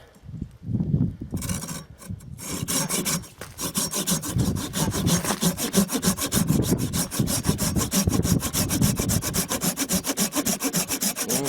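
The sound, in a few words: folding pruning saw cutting through wood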